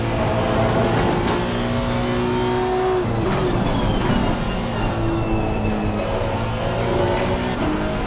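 Race car engine in a sim racing game, a Honda run on an aggressive engine map with an oversteering setup, drones steadily and loudly through a lap with shifting revs and no talk over it.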